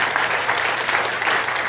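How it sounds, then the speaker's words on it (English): An audience claps steadily through a live hypnosis stage show, a dense even wash of applause from a crowd with no breaks. "Give them a round of applause,"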